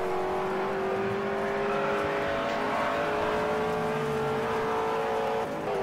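Loud, sustained V8 roar from a Rover SD1 Vitesse 3.6 litre touring race car at Lady Wigram, holding a steady pitch with slight rises and falls as it pulls through gears, no voices.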